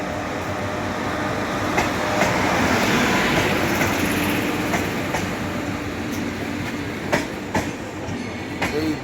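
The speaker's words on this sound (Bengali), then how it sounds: "বিশ্বভারতী ফার্স্ট প্যাসেঞ্জার একটু লেট করে ঢুকছে।" Biswabharati Fast Passenger train pulling into Sainthia station: a loud, continuous rail rumble with repeated wheel clacks and clicks that keep going throughout, with no voices.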